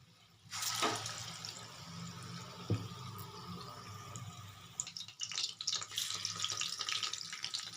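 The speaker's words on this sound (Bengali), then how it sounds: "আমি 4খানা করে ভাজছি, বেশি একসঙ্গে দেওয়া যাবে না।" Loach fish fry in oil in a pan over low flame, a few pieces at a time. A close, steady hiss and crackle bursts louder as pieces go in and swells again near the end.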